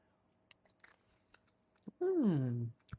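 Cooked wheat berries are chewed close up with faint, crisp crunches, followed by a loud sustained hum of approval.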